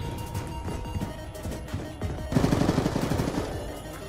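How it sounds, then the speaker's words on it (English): Rapid gunfire from Call of Duty: Black Ops 2 multiplayer, a steady stream of close, punchy shots that grows denser and louder in the second half, with no one talking. "He's shooting at you!"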